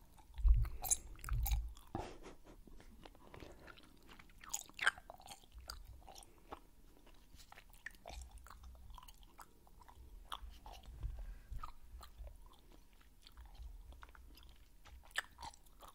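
Soft close-up chewing of gummy candy, with moist squishy bites and a few crunchy clicks in a slow irregular rhythm, quiet and without talk.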